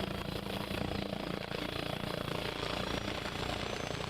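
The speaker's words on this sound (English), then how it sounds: "I can hear this helicopter." A helicopter in the military shooter Arma Reforger gives off a steady, dense rotor and engine drone that holds at even loudness through the whole stretch, with no voices over it.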